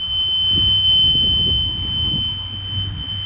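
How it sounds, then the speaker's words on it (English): A steady high-pitched electronic bus door buzzer drones continuously as the door handle of a conventional bus is lifted, with low rumbling and handling noise beneath it. "When I lift the door handle, lights and buzzer come on inside."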